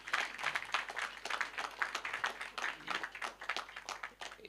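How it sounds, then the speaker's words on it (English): Steady applause from an audience at a national insurance debate final, honouring the debaters; dense, continuous clapping at moderate volume that fills the whole stretch without pause. "Give them a round of applause again"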